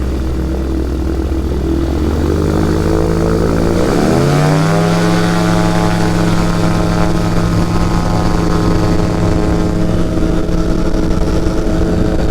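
Light propeller aircraft engine rising from a lower idle to a loud, steady full-power drone for takeoff, continuous and close, with strong harmonic tones holding level after the run-up.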